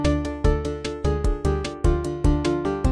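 Minecraft note block music machine playing a tune at double speed, a quick run of plucked, bell-like notes in a steady rhythm with sharp repeated attacks, loud and close with no talking.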